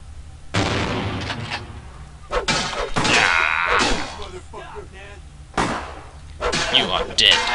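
Shotgun fire in the vampire action game Vampire The Masquerade Bloodlines: several heavy, booming blasts spaced seconds apart, each with a sharp onset and ringing decay, mixed with in-game voices and clatter.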